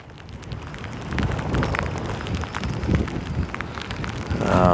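Rain falls steadily outdoors in Tasmania at a rock wall fishing spot, a dense pattering hiss that builds after the first second and stays loud, with scattered sharper drops and no talking.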